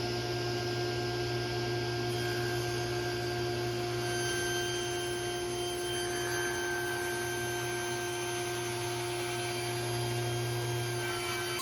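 Power saw ripping three inches off a fifteen-inch-wide live edge wood board in a workshop, a steady continuous whine and cutting drone held at even loudness throughout, with no talking.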